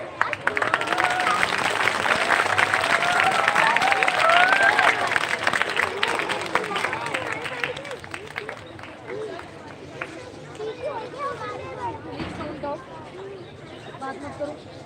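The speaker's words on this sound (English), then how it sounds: "You are all requested to welcome them with a loud applause" School audience applauding to welcome guests at an outdoor assembly, a broad crowd clapping that swells and then fades, with voices and some bird calls mixed in.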